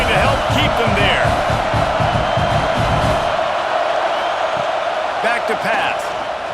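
Stadium crowd in a college football video game, Toledo at Florida, roaring loudly and steadily with scattered whoops, a commentator talking over the din for the first half.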